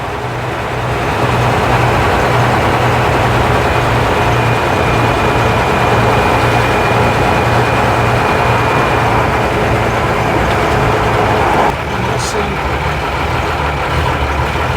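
A 1958 Leyland PD2 double-decker bus with manual transmission, its heavy diesel engine droning loudly and steadily from inside the vehicle, with a slight change in tone near the end as it keeps running.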